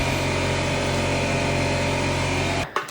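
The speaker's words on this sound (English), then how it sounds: "Take the air compressor, kind of get it up in there, and you just blow" Air compressor blowing a steady, loud stream of air into a Surron LBX electric dirt bike handlebar to free the grip, a continuous broadband hiss with motor hum that cuts off abruptly near the end, followed by a faint knock.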